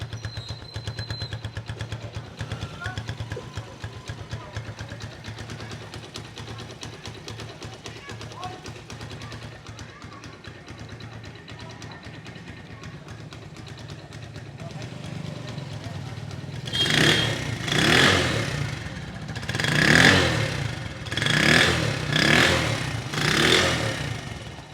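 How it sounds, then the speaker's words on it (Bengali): A Runner Freedom 100cc motorcycle engine idles steadily at close range, then revs hard in about five sharp, closely spaced bursts near the end. "এবার আপনাদেরকে গাড়ির ইঞ্জিনের সাউন্ড শোনানোর চেষ্টা করব।"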